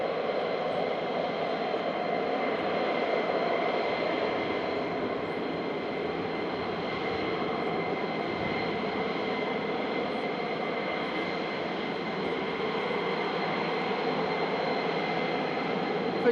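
F-35 jet aircraft at RAF Lakenheath produce a steady, distant whining roar with a constant tonal hum, holding at an even level throughout without talk.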